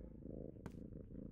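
A cartoon cat purrs softly in a steady low rumble with a brief brighter rustle midway, no voices over it.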